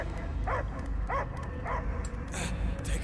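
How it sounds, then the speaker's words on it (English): A dog in the Guardians of the Galaxy video game gives several short, distinct barks at a steady pace, set against a low game soundscape and a bit of background voice. "I hear only barking"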